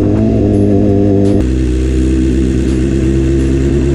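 A BMW S1000R sport motorcycle engine revving up loud and close, a deep throbbing roar that climbs and holds steady for a few seconds.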